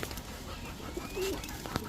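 A Sabji racer pigeon cock gives a soft, brief coo over steady low background noise, with a faint click near the end.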